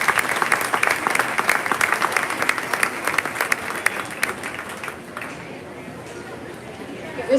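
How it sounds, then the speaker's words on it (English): Big round of applause from a county junior fair swine show crowd for senior division champions, dense steady clapping with a few sharp claps standing out for about five seconds, then fading into a low murmuring crowd. "give a big round of applause for our champion and reserve here in our senior division"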